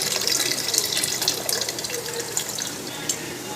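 Tamarind water is poured into a one-pot sambar rice dish, giving a steady, close, splashing trickle of liquid that runs throughout without a break.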